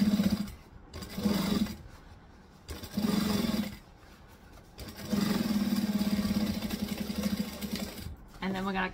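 A sewing machine runs in several bursts, stitching and backstitching a seam on a Laney by Swoon project, its close whirring hum stopping and starting between pauses.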